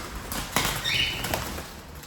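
A brief burst of wing flaps as a smoky mirror-tail pigeon takes off and flies away, close and quick, lasting about a second against a quiet background.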